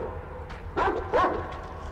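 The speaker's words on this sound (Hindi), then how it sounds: "यार इस कुत्तों को चुप करवाओ यार।" Dogs in the video game Metro Exodus give two or three short yips and barks, moderately close, over a steady low game background.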